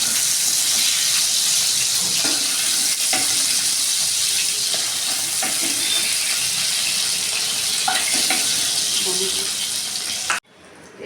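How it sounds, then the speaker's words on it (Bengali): Prawns fry in hot oil in a pan, a dense, steady sizzle broken by repeated stirring scrapes and knocks, then cutting off abruptly near the end. "চিংড়ি মাছটা ভাজা হয়ে গেছে, এবার চিংড়ি মাছগুলোকে নামিয়ে নেব"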